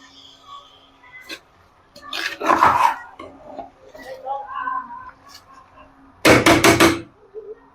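Spoon or ladle scraping and knocking against a pot as cooked seeraga samba rice is mixed into coconut-milk chicken gravy for thengapal chicken biryani, giving a few clattering bursts with quiet gaps between them.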